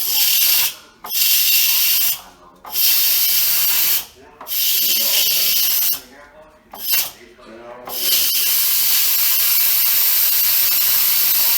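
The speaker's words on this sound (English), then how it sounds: "I will use my spoon, however, to release the pressure." Loud, steady broadband steam hiss from an Instant Pot quick pressure release during turkey wing cooking, nudged open with a spoon, cutting out briefly several times before resuming; a voice speaks in the short gaps.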